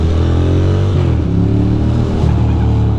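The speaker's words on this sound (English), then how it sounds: "The biker is operating his motorcycle like a complete animal, obviously." A Ducati motorcycle races through New York City traffic in Brooklyn, its engine a loud, close, steady drone with shifting revs and gear changes throughout, no talk.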